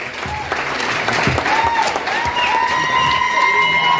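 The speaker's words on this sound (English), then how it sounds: "But shall we just big a big round of applause to Albright?" A wedding audience gives loud, sustained applause mixed with cheering and crowd noise, with voices calling out over the clapping throughout.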